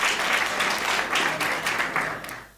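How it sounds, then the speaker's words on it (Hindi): Crowd applause at a live comedy show, a dense wash of clapping that stays loud for about two seconds and then trails off, with no voices over it. "एक बार सदन ताली बजा के मुझे आदेश दें।"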